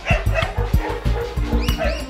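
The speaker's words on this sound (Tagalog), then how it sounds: "bakit hindi kami nakakaladkad ng mga dambuhalang aso na ito" Large dogs bark repeatedly in quick, overlapping bursts during a 3 km pack walk, loud and close, with a few higher yips and whines mixed in.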